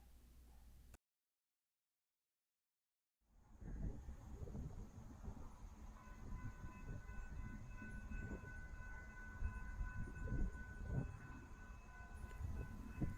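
A Brightline test train races past a crossing in Brevard County at up to 110 mph, a distant rumble building after a brief gap into a steady, growing rush with a faint horn-like tone.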